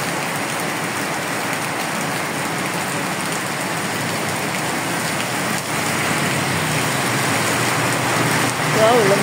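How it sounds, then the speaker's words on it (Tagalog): Steady heavy rain pours down in a dense, unbroken hiss that swells slightly louder toward the end. "Biglang buhos ng malakas na ulan."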